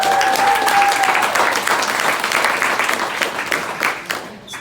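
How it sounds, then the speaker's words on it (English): Sustained applause from a large arena crowd at a Golden State Warriors basketball event, loud and dense throughout, tapering slightly near the end, with a brief tone heard early on. "Round of applause."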